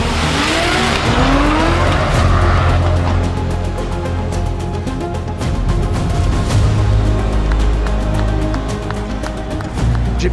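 A drift car skids through a night race with screeching tire squeal over a loud, continuous engine roar, the revs rising and falling across the whole stretch, with faint crowd or voice sounds buried beneath.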